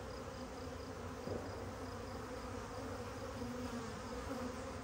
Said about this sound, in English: I bet you the bees are coming out to check out their new neighbors